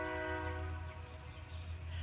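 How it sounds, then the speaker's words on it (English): A train rolling through a small town sounds its horn, a steady sustained blare with a low rumble beneath it, heard from a short distance and holding for about two seconds. "I love the sound of the trains"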